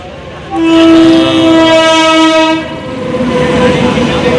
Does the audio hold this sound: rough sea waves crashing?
no